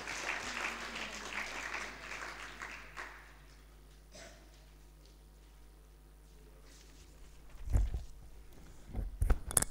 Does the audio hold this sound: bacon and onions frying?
no